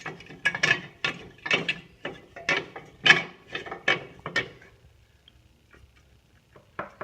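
A ratchet clicks in quick repeated strokes, tightening a fastener on a sprayer rack being fitted to an Exmark mower, a close run of sharp ratcheting bursts that slows and fades to a few scattered clicks near the end.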